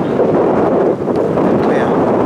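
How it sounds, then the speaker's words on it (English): Loud wind buffets the microphone in a steady roar on a Maldives island resort, gusting slightly, with no clear voices. "It's windy. It's a windy day."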